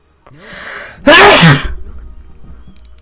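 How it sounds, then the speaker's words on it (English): A sharp inhale builds into one loud, close sneeze, followed by a quieter breathy exhale and faint rustling. "that's 2 sneezes in one show"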